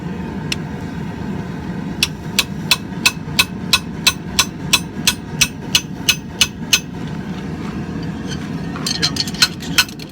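Hammer striking hot steel while forging a Viking axe pendant and reopening its eye, with about a dozen sharp, evenly spaced ringing blows, a pause, then a quicker cluster of strikes over a low background hum.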